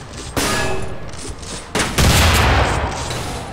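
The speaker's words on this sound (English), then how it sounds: "What is he shooting at?" Gunfire in the horror video game Underhell, a loud, dense barrage of rapid shots and booming blasts that swells into sustained heavy fire, with no talking over it.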